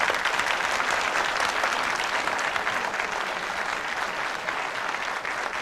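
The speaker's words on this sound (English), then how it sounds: "A round of applause, a little whistle." Studio audience on a 1977 British television whodunnit quiz show bursts into sustained, loud applause, a dense steady wash of clapping with no voices over it.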